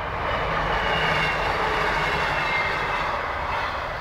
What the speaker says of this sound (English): There's a train going past.